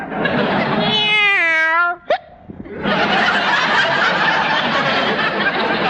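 A cat meows several times in quick succession with rising and falling pitch in an indoor kitchen scene from a classic comedy, followed by a short squeak and then a steady broadband wash of background noise.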